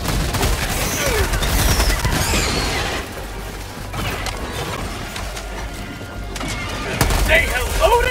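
A video game battle with dense, continuous gunfire and explosive crashes, loud throughout, with a fresh burst of blasts near the end and voices in the mix.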